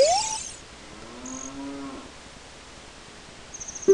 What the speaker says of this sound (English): A random cow in the background.